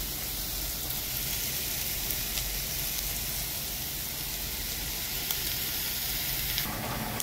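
Onion, ginger and garlic fry in a pan with a steady, close, dense sizzle and hiss that runs unbroken throughout, with no talking over it.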